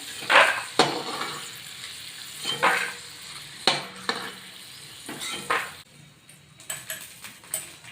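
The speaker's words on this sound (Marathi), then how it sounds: "शेंगदाणे पण झाले तळून" Peanuts frying in oil give a soft, constant sizzle, punctuated by several sharp scrapes and clinks of a spoon stirring against the pan, close up and with no voices.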